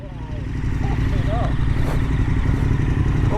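Royal Enfield Himalayan 411 motorcycle riding on an Irish road, a steady loud engine drone with wind rush and some clatter throughout, close to the rider.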